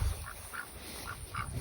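A limping duck on a sheep farm gives four short nasal quacks in a loose rhythm, fairly near, over a low background hum with no talk.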